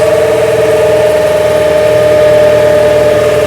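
A turbocharged diesel engine in a New Holland TL-90 tractor drones loud and steady under load, with a strong even hum and a buzzing vibration that hold level without letup and no talking.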